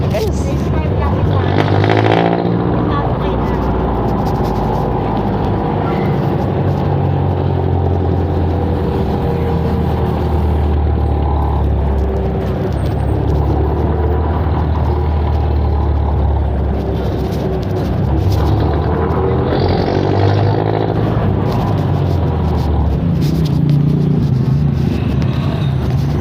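A Filipino jeepney's engine rumbles steadily throughout a ride, with road and cabin noise and passengers talking over it.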